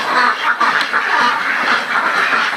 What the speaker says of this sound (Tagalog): Yan po yung ating mga itik.